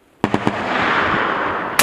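M2 machine gun firing live at targets on a range, three sharp close reports followed by a long loud roaring burst and a fresh blast at the end.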